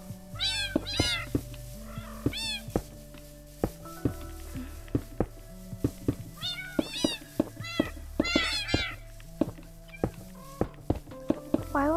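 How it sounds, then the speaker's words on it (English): Several cats meow repeatedly in the video game Minecraft on PlayStation 4, rising cries overlapping in bursts over soft in-game thumps and steps. "my cats are going crazy."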